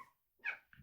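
A dog's short bark or yelp comes muffled through a blanket-covered door, one brief burst with a small follow-up sound, faint and with no talk over it.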